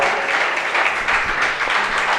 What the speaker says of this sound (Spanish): ¿Por qué no le das un aplauso al Señor, hermano?